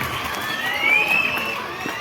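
At a school Independence Day celebration, a crowd of children cheers and claps together. The noisy mass of voices and hands swells briefly with a shrill shout in the middle.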